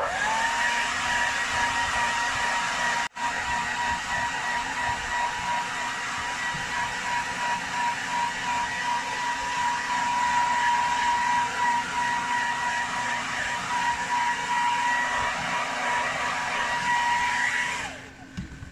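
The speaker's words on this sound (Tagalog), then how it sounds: "kailangan natin i-blower" A loud, continuous whooshing blower roars steadily from start to finish, drying an emulsion-coated silk screen for T-shirt printing, cutting off abruptly near the end.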